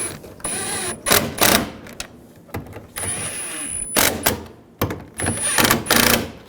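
Ratchet and hand tools tightening the mounting nuts on a side mirror of a 2011-2018 Ram 1500 pickup, in repeated short bursts of clicking and whirring with brief pauses between them.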